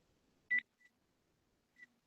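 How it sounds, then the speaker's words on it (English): A few faint, isolated telephone beeps from dialing, one louder short tone followed by two brief quieter blips, spaced out against a near-silent room. "now's the dial tone"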